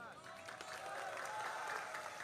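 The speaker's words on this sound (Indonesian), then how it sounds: "tunggu jangan tepuk tangan dulu" Steady broadband clapping from a crowd, continuous and fairly loud throughout, with some voices mixed in.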